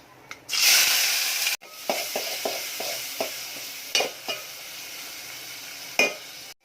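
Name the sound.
tomato, onion and chilli frying with asafoetida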